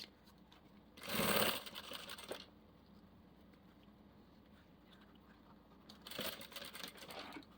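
A sewing machine stitches around the fabric lining of a small half-moon zippered toiletry bag in two short bursts, quiet and close, separated by a few seconds of near silence.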